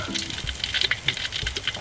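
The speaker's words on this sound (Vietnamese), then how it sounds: "Bây giờ mình sẽ cho vô chảo mình chiên." Breaded chicken, coated in panko crumbs for a KFC-style crispy fry, sizzles in a pan of hot oil with a dense, steady crackle and fine spitting pops close by.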